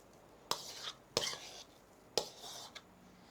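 A spoon pushes cheese filling into a pastry dish for Greek kremmydopita, giving four sharp scraping clinks against the dish at irregular intervals over quiet room tone.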